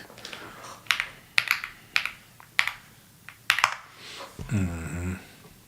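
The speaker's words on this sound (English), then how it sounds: "Let me type this in so we all can get an understanding." A computer keyboard is typed on in about eight sharp, separate clacks and short bursts, close and fairly loud, followed by a brief voice-like tone at the end.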